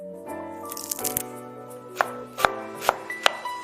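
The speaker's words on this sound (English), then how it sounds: "while I finish chopping the greens" A knife chops fresh dill and parsley on a board, a few sharp close knocks spaced irregularly over faint background tones, with no speech.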